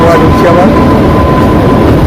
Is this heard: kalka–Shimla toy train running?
yes